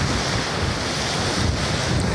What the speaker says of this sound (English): because it's quite windy